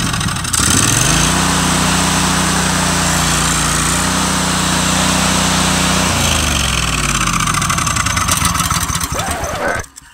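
A small gasoline engine on a mag grill, just after carburetor cleaning, catches and starts, then runs loud and steady at a fast idle before its pitch drops and it cuts out near the end.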